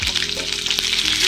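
Curry leaves crackle and sizzle sharply in hot oil with mustard seeds, cumin and chillies, a dense close frying hiss with a faint stir, no talking.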